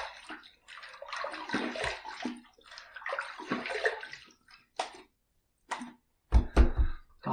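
Tap water runs in bursts while a razor is rinsed after a shave, splashing and gurgling into a basin close by, broken by short pauses and a few clunks near the end.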